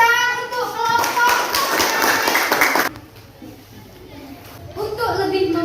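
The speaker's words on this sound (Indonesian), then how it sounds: "Beri tepuk tangan untuk kelompok." Classroom students clap for a student group after a physics presentation: a burst of close, brisk hand claps with voices mixed in for about three seconds, then quieter room sound and a little talk.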